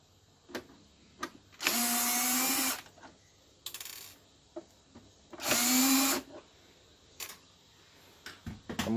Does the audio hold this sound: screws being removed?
yes